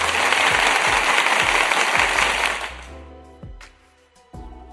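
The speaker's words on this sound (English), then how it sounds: "a round of applause for Marvelous Videos for making that marvelous video." Applause from a reaction-video host's setting, dense and loud for about three seconds, then fading into scattered claps and quieter noise.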